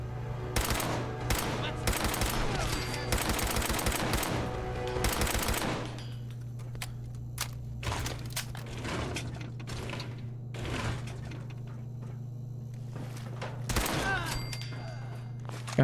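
Gunfire from a weapon in the video game Fallout 4: rapid bursts of shots early on, then scattered single reports and a brief burst later, over a steady low hum with some talk mixed in.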